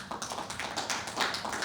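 Live podcast show audience voting by applause, a short burst of scattered hand claps from a partial room, moderately close and uneven in rhythm.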